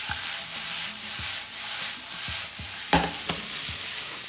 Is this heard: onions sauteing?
yes